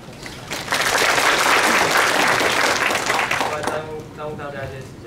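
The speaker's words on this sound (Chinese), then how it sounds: "那我们掌声欢迎" Audience at a tech conference bursting into applause, a dense wash of clapping that swells quickly, holds for a few seconds, then fades as a voice begins speaking.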